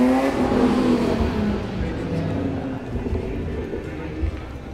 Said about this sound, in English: Got some nice cars that pulled up.